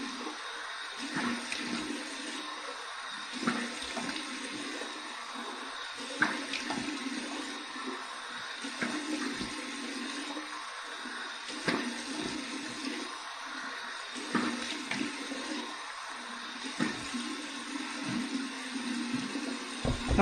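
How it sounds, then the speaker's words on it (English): Cold water runs steadily from a bathroom tap for a post-shave rinse with a Zenith 80R boar hair brush and Personna blade, a constant close splashing stream with small irregular bursts as hands dip in and out. "Here's my cold water rinse."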